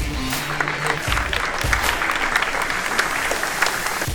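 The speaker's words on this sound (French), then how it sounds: "Merci de les applaudir." Audience applause at the final of an audit hackathon held during a professional conference, a dense steady wash of many hands clapping for the full stretch, with low voices and stage noise underneath at the start.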